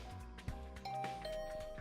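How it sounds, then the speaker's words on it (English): A doorbell rings in the video game The Hundred Line: Last Defense Academy, a few clear electronic chime tones sustained over layered game music, moderately loud with no talk. "Just as I was climbing out of bed, getting to my feet, the doorbell rang."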